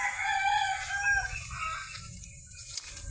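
A rooster crows in a long, wavering call, fairly near, over a low rumble of background noise with a brief sharp chirp near the end.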